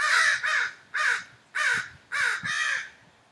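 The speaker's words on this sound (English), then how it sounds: "as soon as the crows started" A run of five loud, harsh crow caws, each a short rasping burst with brief pauses between them, close and clear with no talking.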